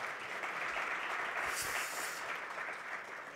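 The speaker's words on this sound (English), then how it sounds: "Let's give him another round of applause, please." Conference audience at a national green hydrogen event in Namibia applauds, a steady wash of many clapping hands, moderately distant and sustained for a few seconds without voices.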